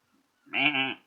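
A war goat in a heavily modded Civilization 5 game gives a single clear bleat, loud and close, lasting about half a second with a wavering tone and no talk over it.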